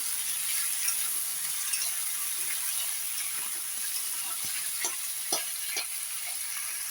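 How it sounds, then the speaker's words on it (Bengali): Onions frying in a pan while being stirred: a constant bright sizzle with occasional scraping and clicking of the spoon against the pan, close and steady, no voices. "তো এটা আমি এখন নাড়তে থাকবো যতক্ষণ না হালকা লাল লাল ভাব আসে।"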